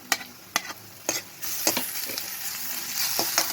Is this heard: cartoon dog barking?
no